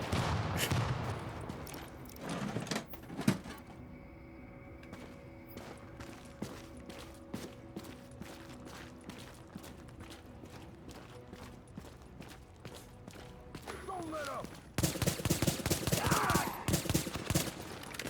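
Bursts of submachine-gun fire in a shooter video game, rapid clicking volleys repeating through a long stretch, with dense, louder firing and clatter near the end; faint voice at times.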